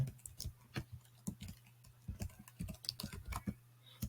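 Email address typed on a keyboard during a mobile app sign-up: quiet, irregular key taps in short bursts over a low steady hum, with no speech.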